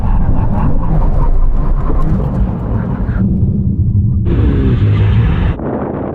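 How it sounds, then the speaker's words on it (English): A high-performance sports car makes a full emergency stop from about 100 mph, with loud, close engine and road roar and heavy wind rumble that shifts abruptly partway through. "We're going to do a full emergency stop."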